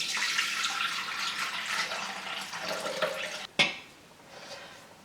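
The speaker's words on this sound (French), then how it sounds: "je vais commencer par mettre 400 g d'eau" Water runs into a Thermomix bowl for cooking squash, a continuous splashing pour that stops abruptly near the end, followed by a sharp clink and faint dripping.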